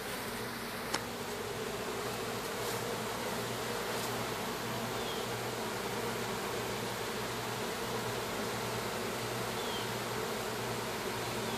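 Dense, steady buzzing of many honeybees during a cut-out removal in Haines City, Florida, a continuous close drone lasting throughout with no voices.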